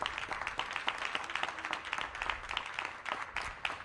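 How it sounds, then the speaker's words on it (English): Audience applause at a press event, a steady patter of many hands clapping for a couple of seconds, moderately loud and continuous with no talk over it. "Give Jody a big round of applause."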